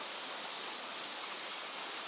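Rain falls outdoors as a dense, even hiss of steady broadband wash, soft and constant, with no voices.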